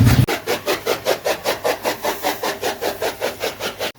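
A fodder chopping machine cuts animal fodder with a loud, close, rhythmic whirring thump, repeating about six times a second and cutting off abruptly at the end.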